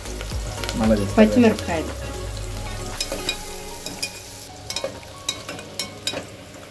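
Onions, tomatoes and curry leaves sizzle and crackle in hot oil in a pan as green chillies are added, with stirring clatter and scattered pops, while a voice speaks briefly over the frying at the start.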